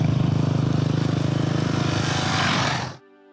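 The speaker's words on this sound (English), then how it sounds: "from a distance, I can hear the roaring engines of the motorbikes making their way up the" Motorbike engines climb a fire road on the Eagle Glen trail in Corona, California, making a loud, steady droning roar that holds for about three seconds and then cuts off abruptly.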